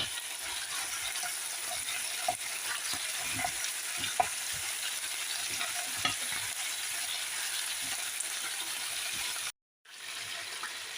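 Potatoes sizzle in a frying pan for spicy chicken adobo, a continuous close hiss broken by light stirring scrapes and taps, with a brief dropout near the end.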